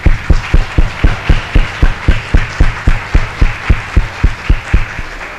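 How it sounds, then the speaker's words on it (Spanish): An audience claps in a steady, rhythmic beat for Ricardo Chávez, a clinic worker who treats smokers, during a talk on managing tobacco addiction. The claps land evenly, close and loud, with no talking. "Un aplauso para nuestro querido amigo don Ricardo Chávez"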